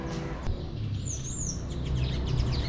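Small birds chirping and singing along the streets of a small town, bright overlapping calls and tweets over a steady low background hum of street noise, no talking.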